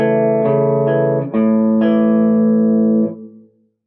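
Electric guitar picks out the arpeggiated opening riff of a song: a few clean sustained notes change in sequence, ringing together before fading out at the end.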